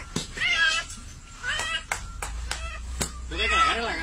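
A cat caught by a python meows and yowls repeatedly in distress, its cries loud and close, with thumps and agitated voices around it.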